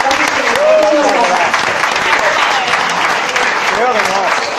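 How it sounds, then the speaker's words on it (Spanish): Loud, dense applause from a concert audience fills the whole stretch after a live band's set, with some voices mixed into the steady clapping. "Fuerte aplauso"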